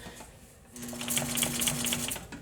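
A sewing machine runs steadily for a short burst, stitching a box cushion with a fast, even mechanical whir and rattle after a brief quiet pause, close by and with no talking.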